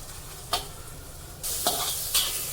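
Ginger-garlic paste with green chillies sautés in a pan for spinach bhaji, a low sizzle punctuated by three sharp spoon scrapes, the frying growing louder partway through.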